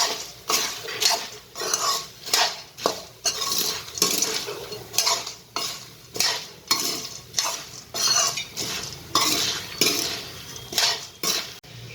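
A spoon scrapes and clatters through spiced puffed rice and ragi-bajra millet chevda in a pan, in rhythmic repeated strokes close by, over a faint sizzle.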